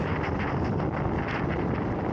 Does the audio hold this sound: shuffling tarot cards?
no